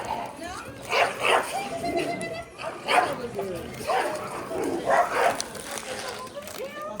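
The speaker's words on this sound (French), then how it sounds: "Combat de chien." Dogs scuffle at an outdoor flea market, with yips, whimpers and short barks coming in bursts under steady crowd chatter and nearby talking.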